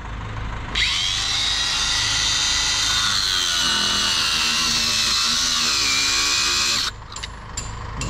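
A battery angle grinder whines loudly and steadily for about six seconds, its pitch wavering slightly under load, then cuts off abruptly leaving faint handling noises.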